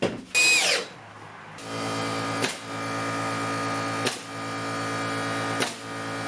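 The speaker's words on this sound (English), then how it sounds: "Luckily, I have my regular drill, so I can still drive screws." A power drill whirs in three sustained bursts, driving screws during a bathroom rebuild, with a steady motor whine and short pauses between runs, preceded by a brief shrill squeal.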